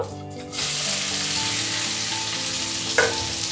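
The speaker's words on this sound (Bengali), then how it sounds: "পাঁচফোড়ন দিয়ে দিলাম এবার আমলকিগুলো দিয়ে দেব" Boiled amla dropped into hot oil already holding panch phoron and asafoetida, erupting into a loud, close, steady sizzle that holds through to the end, with a brief clink partway.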